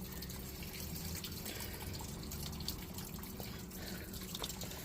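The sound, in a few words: washing mineral matrix in a screen with water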